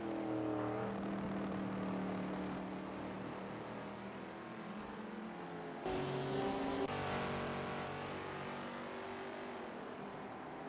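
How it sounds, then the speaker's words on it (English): Race cars scream along the track at Cadwell Park, several high-revving engines wailing through gear changes as they pass, loud and continuous with a sharp surge midway, no talking. "Hear all the other cars screaming along behind"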